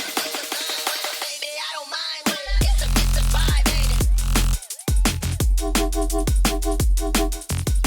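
A drum and bass drop with a new bass part: after a brief melodic intro, loud heavy sub bass and punchy rapid drums kick in, driving continuously with short breaks.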